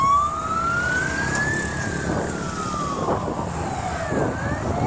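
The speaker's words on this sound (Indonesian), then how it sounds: "Nah, dari mana nih ambulans nih?" An ambulance siren wails in traffic, its rising and falling tone loud and close over the rumble of road noise, sweeping continuously.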